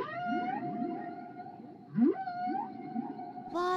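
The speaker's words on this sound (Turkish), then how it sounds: "Aslında midemde normalde balina sesleri olur." A cartoon stomach growls with long, moaning whale-like calls, a rising and falling tonal groan that swells and sweeps upward midway, sustained and fairly loud with no talk.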